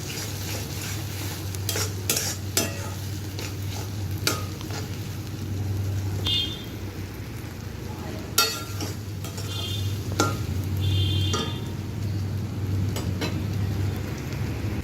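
Loitta fish jhuri is stirred and dried out in a frying pan: a soft sizzle runs under scattered sharp clicks and scrapes of the spatula against the metal, close and unhurried.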